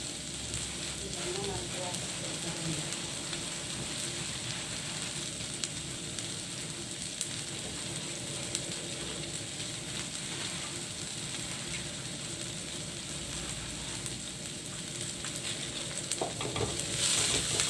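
Shallots fry and sizzle in a pan while a utensil stirs them continuously, a steady close hiss with scraping and clinking throughout and faint talk in the background.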